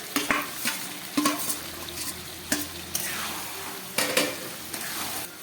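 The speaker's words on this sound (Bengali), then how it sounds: "এবারে আমি এই যে ম্যারিনেট করে রাখা মটনটাকে দিয়ে দিচ্ছি, খাসির মাংসটা।" Marinated mutton frying in oil and ghee with tomato and spices, a steady close sizzle broken by repeated scraping stirs of a spoon against the pan.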